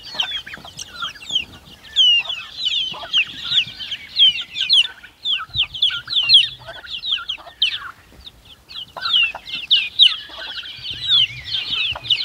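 Farmyard poultry, with turkeys among the fowl, keep up a busy stream of high clucks and calls close by, overlapping and nearly continuous, with occasional low rustling underneath and no talking.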